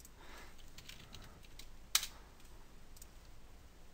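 A username is typed on a computer keyboard, with soft rapid key clicks spread across the clip and one sharper click near the middle, over faint room hiss and with no talking.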